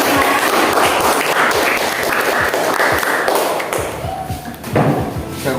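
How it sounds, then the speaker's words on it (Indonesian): Classroom applause for a student group after their presentation: dense, steady clapping from many hands fills most of the clip, thinning out near the end with a few scattered claps. "Berikan tepuk tangan untuk kelompok 1"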